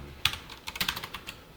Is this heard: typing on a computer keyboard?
yes